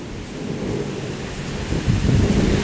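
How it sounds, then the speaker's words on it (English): Heavy thunderstorm outdoors during a rained-out concert, with a steady roar of rain and a deep rumble of thunder building toward the end, loud and close with no voices. "we got a freaking storm out here"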